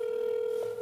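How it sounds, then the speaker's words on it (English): A single steady telephone tone sounds alone for under a second, close and unbroken, with a faint blip near its end. "I got a phone call here."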